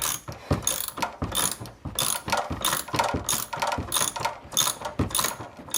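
A socket ratchet works on a power steering pump pulley fitted since 1989, clicking in quick, evenly repeated bursts. Each stroke gives a close, crisp run of pawl clicks with short pauses between, and nothing else is heard.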